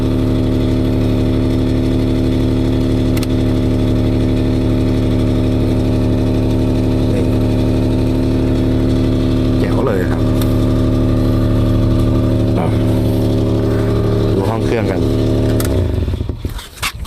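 Daihatsu Mira L80 turbo, a 660 cc three-cylinder automatic, idles close by with a steady, even drone and a slight exhaust leak, then gives a few short throttle blips near the end.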